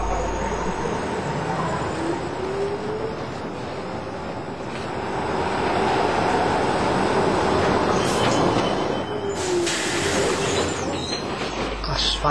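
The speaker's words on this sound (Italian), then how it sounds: "Al Grato Soglio c'è l'anello di ritorno dei tram della linea 3, Grato Soglio Duomo" A Milan line 3 tram runs on its rails with a loud, steady rumble, a thin wheel squeal rising and fading along the track, close by and uninterrupted throughout.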